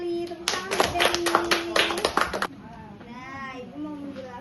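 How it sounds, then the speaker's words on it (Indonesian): Children in a classroom clap hands for a classmate, a burst of rapid, close claps lasting about two seconds, followed by quieter chatter and a voice. "Tepuk tangan buat Deli."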